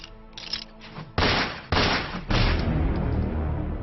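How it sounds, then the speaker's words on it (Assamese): Rifle gunfire sound effect set inside a poem recitation: three loud, abrupt blasts about half a second apart, each leaving a sustained rumbling roar, after a quieter mechanical clatter. "ৰাইফলৰ আগত চিলাই হোৱাৰ শব্দ, হেনৰ দৰে উৰিছে গুলী।"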